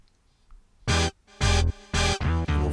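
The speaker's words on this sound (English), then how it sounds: "we have this brass kind of stab sound" Brass stab patch on a Korg Wavestate synthesizer, 80s pop pre-chorus: four or five short, punchy brassy chord hits in a syncopated rhythm, loud and close, played alone without speech.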